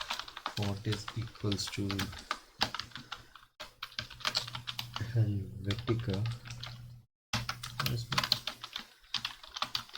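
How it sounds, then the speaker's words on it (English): Computer keyboard typing in quick bursts of clicks, close and fairly loud, while someone talks over it during a Python Tkinter coding session. "Sorry for the keyboard."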